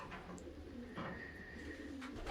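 Racing pigeons coo softly in a loft, giving a few low, throaty calls against quiet background noise. No one speaks.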